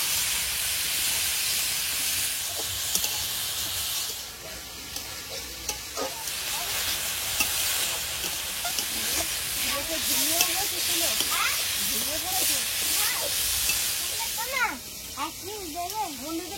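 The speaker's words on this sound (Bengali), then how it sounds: "চিকেনটা একটু ভালোভাবে কষিয়ে নেবো যাতে ওর ভিতরটা ভালোভাবে শুরু হয়।" Chicken pieces with chopped garlic, ginger and turmeric sizzle and hiss steadily in a hot pan for chow mein, with stirring scrapes throughout and someone talking over the frying.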